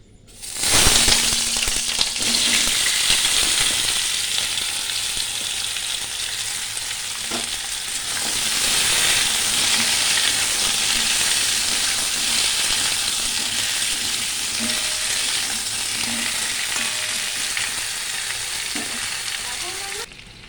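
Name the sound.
cumin seeds and potatoes sizzling in hot oil in a wok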